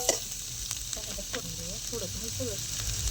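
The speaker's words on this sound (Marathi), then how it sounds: "आपला बघा कांदा छान असा भाजून झालाय, लालसर कलर आलेला आहे त्याला." Finely chopped onions with green chillies fry in a pan and give a steady, soft sizzle and hiss. A quiet voice murmurs faintly underneath, with occasional light stirring scrapes.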